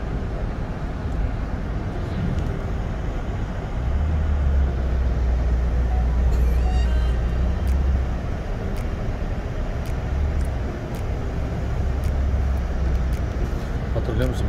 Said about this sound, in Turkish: Bu yanımıza giden metrobüs, onlar hiçbir yerde durmuyor.